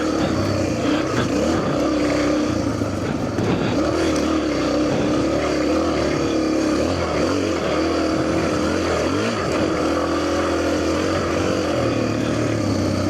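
Suzuki DRZ250 dirt bike engine held in third gear while riding a trail loop over big whoops, a steady droning single-cylinder note rising and falling with throttle, close and continuous, with wind rush mixed in.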